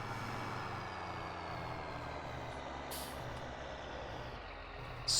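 A heavy straight-piped tractor engine in Farming Simulator 19 drones steadily with a low, rumbling exhaust, loud and continuous throughout, with a brief hiss near the end.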